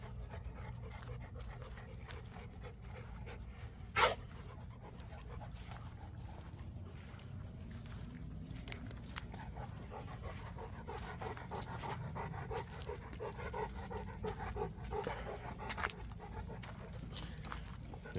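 A dog, of the Presa breed kept by a home breeder, pants steadily and rhythmically close by, with light footsteps and shuffling and a single sharp knock early on.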